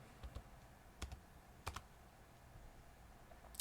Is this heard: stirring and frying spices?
no